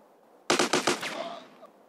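A rapid burst of about five gunshots in GTA San Andreas on Android, sharp close cracks in quick succession followed by a short fading echo, with no talk.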